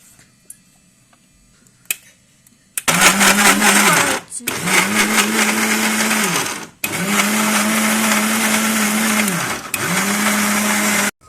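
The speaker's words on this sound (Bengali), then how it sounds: "এবার মিক্সিতে ঘোরানো হবে" A mixer grinder blends spices with a little water in its jar, whirring loudly in three long runs broken by brief stops after a quiet start.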